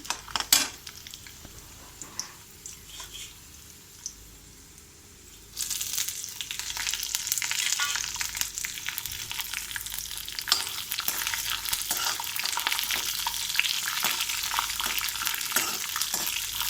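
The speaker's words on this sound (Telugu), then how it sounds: "కొంచెం ఆయిల్లో బాగా వేగాలండి మిర్చీస్, అప్పుడే కొంచెం స్పైస్ అనేది వస్తుంది" Green chillies frying in hot oil in a pan for sago khichdi, alongside roasted peanuts and chana dal; a steady loud sizzle swells up midway and continues with occasional stirring scrapes, no voices.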